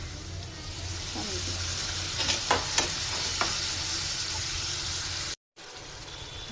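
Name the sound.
spice paste being stirred and fried in oil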